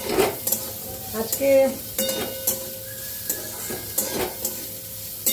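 Vegetable fried rice with cauliflower and carrot is stir-fried in a pan, a lively sizzle broken by repeated scraping strokes of a spatula, with a single spoken word heard briefly.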